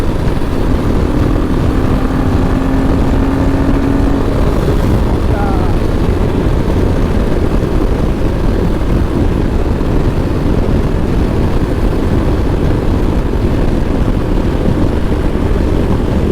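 Royal Enfield Himalayan 450 motorcycle ridden at night along a clear road near Jalpaiguri, a loud, unbroken roar of engine and wind rush that holds steady from start to finish.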